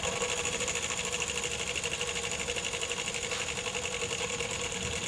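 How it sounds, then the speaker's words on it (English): A live steam model locomotive with its wheels spinning freely, giving a rapid, steady mechanical chatter and hiss that runs unbroken and fairly loud throughout, with no talking. "Now I open the valve to the forward position, give the wheels a bit of a spin"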